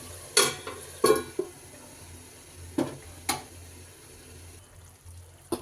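Gongura chicken cooking in a pan on a low flame, with a few scattered stirring scrapes and clinks over a soft, steady simmering hiss.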